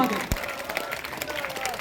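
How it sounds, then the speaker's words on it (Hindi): A village crowd applauds to welcome an elderly man, the clapping dense and distant under a noisy outdoor wash, with voices mixed in. "सभी लोग नौरंगलाल जी के लिए तालियां बजाकर उनका स्वागत करें, अभिनंदन करें"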